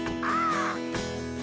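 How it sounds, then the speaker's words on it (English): Crows caw in the Bob the Builder: Bob's Castle Adventure video game, two loud, harsh drawn-out calls close by over a steady musical backdrop. "Oh, dear. So many crows."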